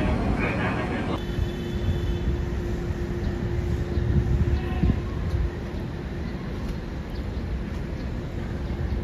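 A KRL commuter train departs close by from Tanah Abang station in Jakarta, a low continuous roar with a faint high whine and rattling as it pulls away.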